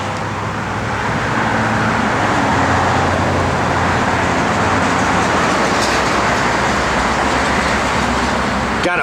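A 1969 AMC AMX rolls along the road with a steady, loud broadband roar of engine and tire noise holding evenly throughout, with no voices.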